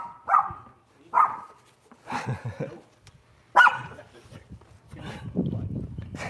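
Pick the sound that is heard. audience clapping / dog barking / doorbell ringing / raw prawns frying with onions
dog barking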